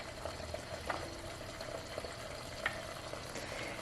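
Ghee bubbles and sizzles in a pan close by, a steady frying hiss broken by scattered pops and crackles, with no voices.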